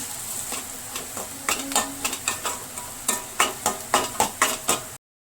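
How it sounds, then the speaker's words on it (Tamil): Onions with turmeric sizzle in a hot pan while a utensil stirs and scrapes in repeated strokes, the scraping growing more regular toward the end. "இது கூட சேர்த்து நல்லா வதக்கிக்கலாம்."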